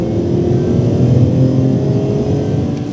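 BMW E46 M3 with its S54 straight-six engine and SMG gearbox revs loudly and close during a downshift, a brief continuous roaring burst.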